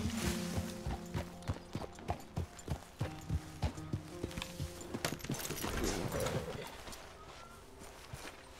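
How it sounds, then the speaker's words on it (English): Horse hooves clip-clopping on hard ground in the video game Red Dead Redemption, a steady run of close, sharp hoof beats over a low background of game ambience. "Well, I got us a horse,"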